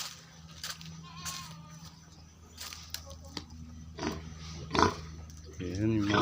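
Pigs on a farm give grunts and squeals at moderate distance amid barnyard noise, with people talking over the animal sounds.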